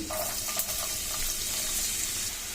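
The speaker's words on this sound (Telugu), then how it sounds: "2 టేబుల్ స్పూన్ ఆయిల్ వేసిన తర్వాత హీట్ అయిన తర్వాత మనము సన్నగా కట్ చేసి పెట్టుకున్న వెల్లుల్లి వేసుకుందాము" Garlic and onion fry in hot oil with a soft, steady sizzle and faint crackle, quiet and brief with a few light clinks near the start.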